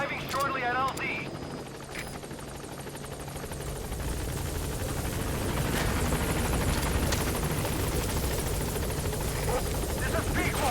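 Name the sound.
helicopter arriving at landing zone in video game Metal Gear Solid V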